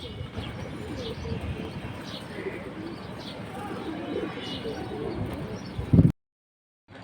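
Female pigeons of several fancy breeds coo steadily in a loft, with soft low throaty calls and occasional chirps that stop abruptly near the end.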